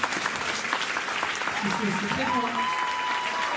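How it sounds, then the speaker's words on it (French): Applause from a live audience at a French talk show taping, steady and fairly loud throughout, with a voice speaking briefly over it partway through. "je demande vraiment un tonnerre d'applaudissements"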